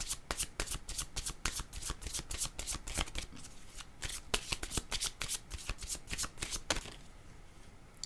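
A deck of cards is shuffled and drawn up close: a fast run of crisp riffling flicks and slaps that slows near the end, with no talking.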